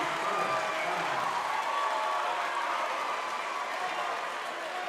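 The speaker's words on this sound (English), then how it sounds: "What a reaction from the Metamora crowd" Metamora student section roaring at a high school boys' basketball game, a steady loud wall of crowd cheering and noise that holds for several seconds, easing slightly toward the end.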